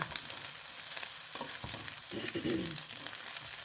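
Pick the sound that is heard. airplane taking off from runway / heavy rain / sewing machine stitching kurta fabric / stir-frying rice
stir-frying rice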